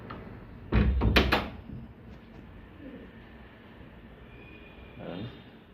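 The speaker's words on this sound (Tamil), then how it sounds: "வந்து கதவை தட்டி வெளியே வருது" Sharp knocks on a wooden door, a few quick raps close by, then fainter creaks and movement as the door opens, with low background noise between.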